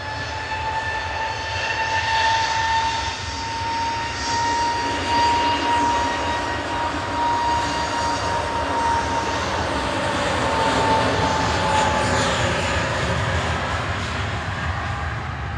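An EasyJet passenger jet departs Manchester Airport for the Isle of Man, its engines a steady, loud roar with a whining tone throughout, swelling slightly as it climbs away, with no talking.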